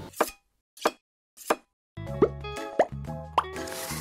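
Knife cutting large raspberries for a raspberry and pistachio clafoutis: three isolated soft plops at an even pace, then further close cuts over a low background hum, no talk.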